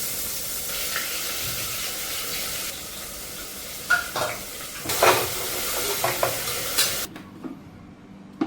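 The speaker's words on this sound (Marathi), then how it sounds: "आता कांदा घालूयात" Chopped onion fries in a pan for chole, a steady close sizzle broken by a few sharp clatters of a utensil against the pan, ending in quieter hiss.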